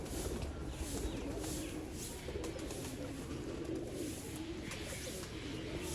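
Sialkoti pigeons of pure breeding stock cooing softly in a loft with their young, low repeated coos over faint background noise.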